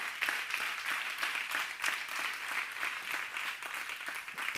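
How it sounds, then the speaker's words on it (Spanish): Audience applause at an award ceremony for entrepreneurship prizes, sustained clapping from a hall full of people, heard at a moderate distance and fairly quiet, steady throughout. "Beñat, un aplauso también para él."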